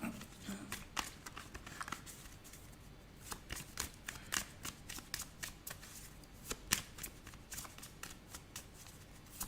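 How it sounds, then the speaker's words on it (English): Tarot cards are shuffled by hand in a steady run of soft riffling flicks and papery slaps, close and fairly quiet, during a psychic card reading with no voice over them. "Let's get a collaborating card out."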